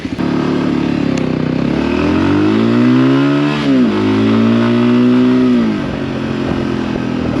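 A Voge 300 Rally motorcycle accelerates hard in first gear, its engine revs climbing loud and close, dipping briefly partway through, then rising again.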